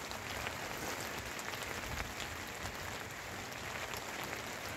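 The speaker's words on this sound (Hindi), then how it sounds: "ऐसी जैसी जगह पे पहाड़ों पे स्नोफॉल हो रहा है ऊपर पहाड़ पे, बारिश चल रही है" Rain falls steadily in the mountains amid a storm with snowfall higher up, a constant close hiss with scattered drop ticks and no voices.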